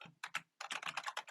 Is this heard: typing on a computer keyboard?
yes